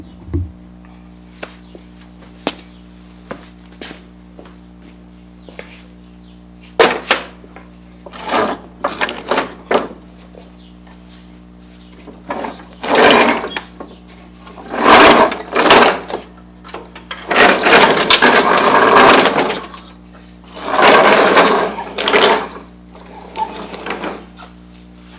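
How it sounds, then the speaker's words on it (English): Lawn mower deck being slid out from under the mower during seasonal maintenance, a series of scraping, clunking bursts of metal dragging and bumping, close and fairly loud, with quiet gaps between. "Now the deck can just slide out from under."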